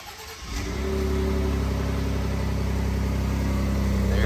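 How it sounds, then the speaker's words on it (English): A 2018-2020 Ford F-150 with the 2.7L EcoBoost V6 starts up on a cold morning, a brief cranking catch followed by the engine firing and settling into a steady, close idle that runs alone to the end. "Let's go ahead and start it up."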